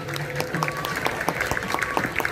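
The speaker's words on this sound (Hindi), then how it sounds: "जोरदार तालियों का आघोष हो जाए" An audience at a Brahma Kumaris silver jubilee event in Mumbai claps to welcome a singer onto the stage, a steady patter of many hands with sharper individual claps poking through and a faint held tone in the background.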